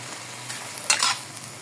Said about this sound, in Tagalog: Pritong-prito na yung ating baka, mga lodi.